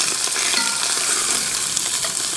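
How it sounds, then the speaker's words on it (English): Lamb shanks sizzle loudly and steadily as they brown in a hot pan, a constant crackling hiss with faint spatters throughout. "Put the sizzle there. Sit them down there."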